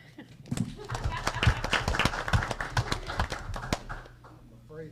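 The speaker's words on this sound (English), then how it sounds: "Cindy's the only one here, so we'll applaud" A council chamber audience gives a short round of applause to welcome Cindy, a new commission member at an Ozark city hall meeting, the patchy clapping running for several seconds with talk underneath.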